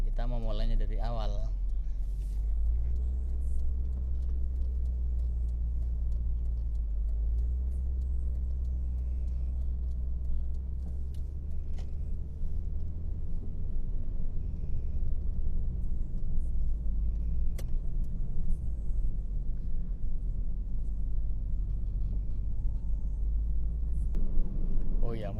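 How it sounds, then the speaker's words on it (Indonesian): A Mazda Premacy climbing a hill in low gear, with a steady low engine drone and road rumble from inside the cabin, while someone talks over it for most of the stretch. "Untuk menanjak kita memakai gigi L atau low karena kita memulainya dari awal."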